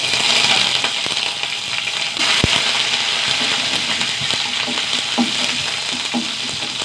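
Shallots fry in a pan with a loud, continuous sizzle, broken by scraping stirs and a sharp metallic clink, close up with no voices.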